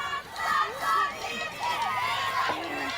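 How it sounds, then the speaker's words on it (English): A softball team's dugout at a high school game erupts in cheering and hollering, several voices whooping and shouting over one another in a lively, continuous clamor heard from across the field. "their dugout is alive. Yeah, they are over there hooping and hollering and cheering"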